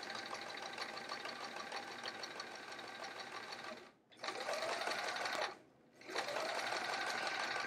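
A sewing machine runs steadily, stitching handles for a travel art folio in a close, even whir. It stops twice briefly, then starts again.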